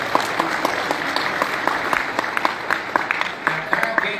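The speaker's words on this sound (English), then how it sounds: "So big round of applause for yourselves." An audience at a Hot Wheels collectors' nationals finale applauds, a dense, sustained wash of many hands clapping close by that holds steady for several seconds, with faint voices mixed in.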